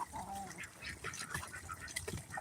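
Ducks quacking in a cluster in a muddy yard, short nasal calls overlapping at close range against a busy outdoor background.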